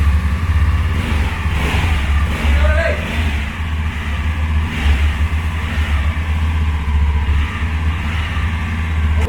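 A Mahindra Mojo 300 motorcycle's engine idles and revs steadily close by, with a continuous low rumble and rising throttle bursts as the bike sets off; people talk faintly in the background.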